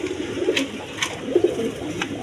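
Lahori pigeons, a big-sized breeding pair with the hen sitting on eggs, give soft low cooing calls in a few short bursts, close by, over faint background noise with occasional brief higher chirps.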